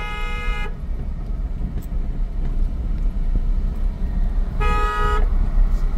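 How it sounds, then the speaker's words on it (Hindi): A car horn gives two short honks during a driving lesson, one at the start and one near the end, over the steady rumble of the car's engine and road noise inside the car. "आप बहुत हॉर्न बजाते हो"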